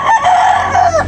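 A rooster at a busy chicken market gives one loud, close cock-a-doodle-doo, a single drawn-out crow filling the short moment.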